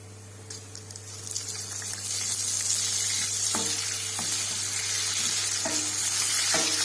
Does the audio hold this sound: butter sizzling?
yes